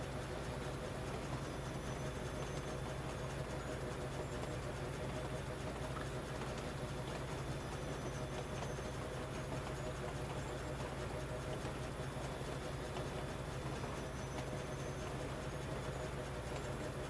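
A train runs on a rail line in the factory-building game Foundry, a steady, unbroken rumble and hum that never changes across the whole stretch, with no talk.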